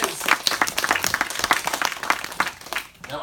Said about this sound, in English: Give our experts a big round of applause.